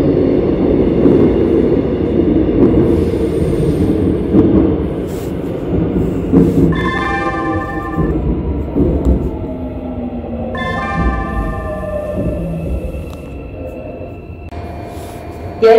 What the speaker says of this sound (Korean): 열차가 곧 출발합니다.